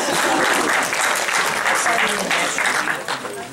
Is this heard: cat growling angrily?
no